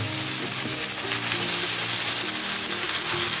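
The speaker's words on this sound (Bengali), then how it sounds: "এগুলো সব আমি এখন ভাজতে থাকবো এই মশলার সাথে" Radish, flat beans and other vegetables sizzle and fry steadily in a spice mix in a pan, a dense continuous hiss with light stirring scrapes close by and no talk.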